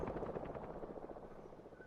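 A military helicopter in Metal Gear Solid V: The Phantom Pain thrums nearby with fast, rhythmic rotor chopping at a steady, moderately loud level, with no speech over it.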